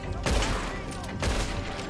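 Two sharp gunshots in Red Dead Redemption 2 on the Island of Guarma ring out about a second apart, loud and close, each followed by a brief reverberant tail.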